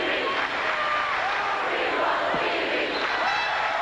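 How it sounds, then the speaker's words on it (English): A basketball arena crowd at a 1998 Kansas Jayhawks versus Oklahoma Sooners game yells and chants, a dense, loud roar of many voices with rising whoops that never lets up. "Fans are all yelling now, we want CB, we want CB."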